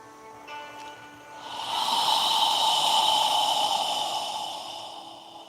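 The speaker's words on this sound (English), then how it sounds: "As you exhale, imagine you're fogging a mirror with your breath" A slow, open-mouthed exhale during a yoga breathing exercise, like fogging a mirror: a soft, breathy hiss swells for a few seconds and then fades, heard close and alone.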